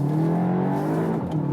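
A VW Arteon R Shooting Brake accelerates out of a hairpin corner in first gear, its engine droning loud and steady with a rising pitch, heard from inside the car.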